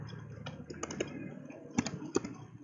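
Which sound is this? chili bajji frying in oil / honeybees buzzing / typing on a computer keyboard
typing on a computer keyboard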